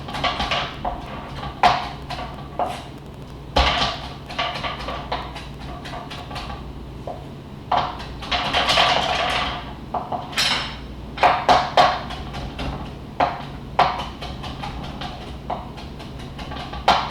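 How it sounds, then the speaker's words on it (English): An avocado is chopped with a knife on a board in a kitchen, sharp irregular knocks and clicks coming in bursts, some closely spaced, close and fairly loud over quiet background. "Chopping."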